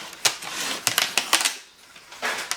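A cardboard food kit package flap being cut open makes a string of sharp snips and crinkly scraping taps in irregular bursts, close and fairly loud, with no talking.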